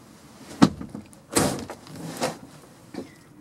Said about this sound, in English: Somebody just slammed the door on me.